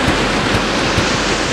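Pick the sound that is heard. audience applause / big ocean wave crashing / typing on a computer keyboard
big ocean wave crashing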